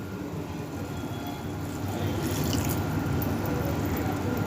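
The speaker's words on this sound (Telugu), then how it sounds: "ఇప్పుడు వచ్చేసి మనకి Everest chicken meet masala water అనేది దీంట్లో యాడ్ చేసుకుంటాం" Masala water poured into a pot of mutton for Hyderabadi mutton dum biryani, a steady close splashing, trickling stream that runs without a break and swells slightly partway through.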